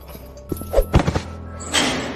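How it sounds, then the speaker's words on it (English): A prison cage door swings shut with a few heavy, close thunks and a metallic rattle, then a short hissing wash of noise trails off. No one speaks. "that is the sound of a cage closing."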